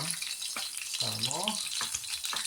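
Bangus milkfish frying in oil crackles in a dense, continuous sizzle close by, with a short voice-like sound rising briefly above it.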